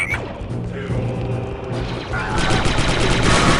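Blaster gunfire in the game Star Wars Republic Commando: a busy run of rapid shots and impacts with mechanical clatter, loud and continuous, under someone talking excitedly.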